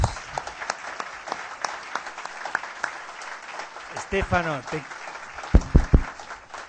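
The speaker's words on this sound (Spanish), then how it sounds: "Señoras y señores, acá, bueno, un aplauso." An audience at a social forum applauds speaker Stefano Zamagni, scattered claps running under a voice that speaks over them before the clapping thins.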